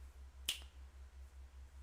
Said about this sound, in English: each time I snap my fingers